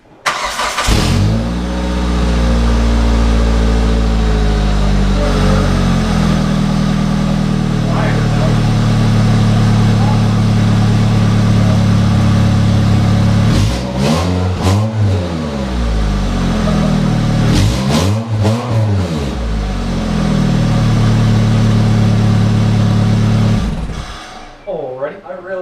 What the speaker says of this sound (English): This is an exhaust on a budget right there.